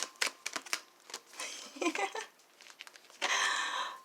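Tarot cards shuffled by hand, a run of quick riffling and soft slapping bursts, close and uneven, ending in a longer sustained riffle.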